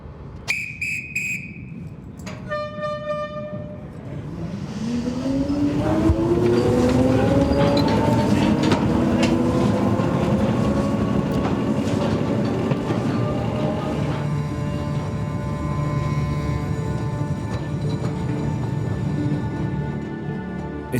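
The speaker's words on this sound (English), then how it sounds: "From the bottom of the shaft, they catch a train to go a further 4 miles into the mine." An underground train carrying miners into Britain's last coal mine opens with a couple of short whistle blasts, then rumbles and squeals steadily along the track, its wheels screeching in long rising tones over a loud continuous roar.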